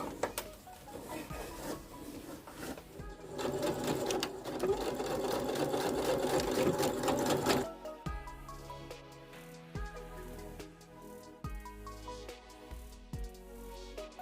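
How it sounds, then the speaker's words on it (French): A sewing machine stitches a bomber jacket, running in a long steady whir that slows into separate rhythmic needle strokes, close and distinct. "Et je vais aller coudre."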